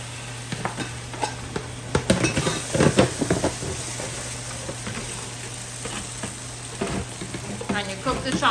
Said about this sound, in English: And now I'm going to throw in my chow mein.